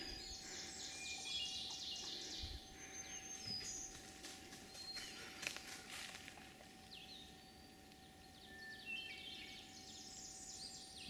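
Birds sing and chirp faintly in a quiet forest near a bog, overlapping calls and tweets scattered throughout over a soft hiss, with no one talking.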